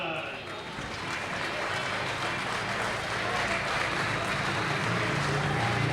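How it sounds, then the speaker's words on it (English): A speedway crowd applauds the heat winner at a Poole Pirates meeting, a steady wash of clapping and crowd noise that runs under a talking voice. "Tom Brennan taking the applause from the crowd."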